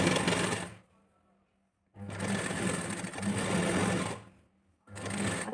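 A sewing machine stitching a blouse hook strip, running in steady whirring bursts broken by short pauses, loud and close with no talk.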